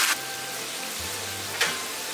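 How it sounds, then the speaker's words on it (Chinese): Boiling water hits a pan of stir-fried skin-on pork belly, dried scallops and straw mushrooms, raising a steady loud hiss with two sharper bursts at the start and midway, no talking. "炒至草菇断生，加开水"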